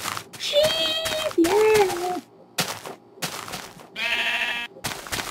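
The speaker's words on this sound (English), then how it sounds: "Sheep!" Sheep bleat several times in a Minecraft game, with voices shouting excitedly between and over the calls.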